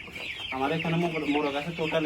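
Seven young roosters cluck and croon continuously close by, a busy, overlapping chorus of short throaty notes.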